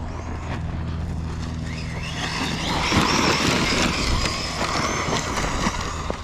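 A Losi Tenacity TT Pro RC truck with big tires drives on a 3S battery, its electric motor whining and surging over rough ground, with a brief bog in the middle and a continuous close rumble.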